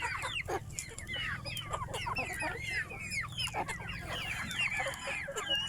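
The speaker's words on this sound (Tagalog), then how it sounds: "Ito yung ating mga heritage chickens." Heritage chickens kept free range, a flock clucking and chattering continuously close by, with overlapping calls over a low background rumble.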